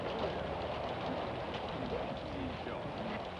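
Steady rain falls on a golf course during a 1963 tournament, a constant even hiss that fills the whole stretch at low level without a break.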